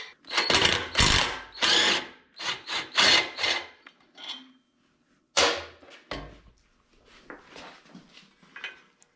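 A power tool loosening exhaust bolts on a 2016 Yamaha Bolt motorcycle during an exhaust install, with loud close bursts of whirring and rattling in short repeated pulses separated by pauses.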